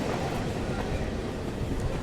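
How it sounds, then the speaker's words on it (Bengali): A fast Barddhaman to Howrah local train runs through stations near Dankuni, a loud continuous rumble of wheels and carriage noise from inside the moving train. "আমাদের ট্রেনটা ডানকুনি স্টেশন থেকে ছেড়ে দিল"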